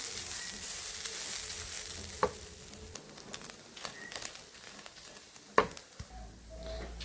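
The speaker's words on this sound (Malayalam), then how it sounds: "നമുക്ക് വറുത്തെടുക്കാം." Brinjal pieces fry in a hot pan with a soft, steady sizzle, punctuated by a few sharp crackles and pops, close and with no voices.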